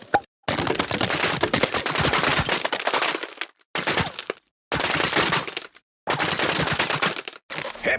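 Rapid streams of bullets strike wooden surfaces in Plants vs Zombies Garden Warfare 2, producing cracking, splintering impacts in four long bursts separated by short silences, loud and close.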